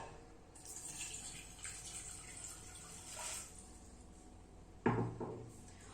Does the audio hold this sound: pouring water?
yes